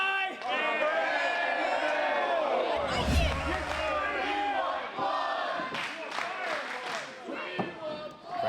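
A wrestling crowd in an arena chants and roars in rhythmic waves, loud and close, with a heavy thud near the middle and scattered yells throughout.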